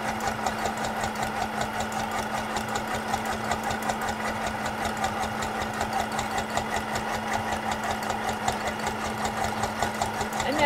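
A sewing machine stitches a quilt with a steady, fast mechanical whir and an even rapid pulse of needle strokes, running continuously and fairly close.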